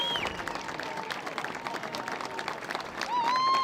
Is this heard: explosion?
no